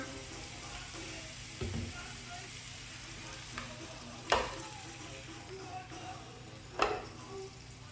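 Chicken breasts fry in avocado oil in a pan, sizzling steadily and close by, with a few sharp clinks and scrapes of a utensil standing out above the hiss.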